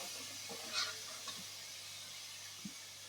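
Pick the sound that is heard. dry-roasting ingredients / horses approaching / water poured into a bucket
dry-roasting ingredients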